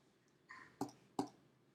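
Computer mouse clicks, two short sharp taps close together, faint and isolated against a quiet background.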